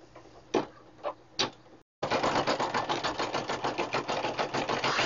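A Brother PE 770 embroidery machine stitching a Christmas banner in the hoop: a few separate ticks, a brief pause, then a loud, steady, rapid mechanical chatter of stitching, close up.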